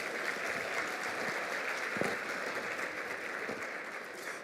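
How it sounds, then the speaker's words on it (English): Applause for a speaker at a public administrators' forum, a sustained crowd of many hands clapping steadily throughout, heard from some distance and moderately quiet. "Let's give Shamai Carney a round of applause."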